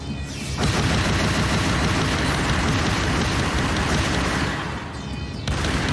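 Constant gunfire from the Trails of Cold Steel IV video game forms a dense, loud, unbroken crackling barrage. It holds steady for several seconds, then drops away abruptly near the end before picking up again.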